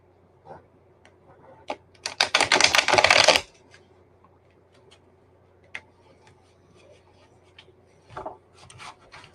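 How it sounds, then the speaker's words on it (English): Tarot cards shuffled by hand at a reading, a dense burst of riffling and rubbing flutter for about a second and a half, surrounded by quieter scattered taps and card handling. "Give these a shuffle."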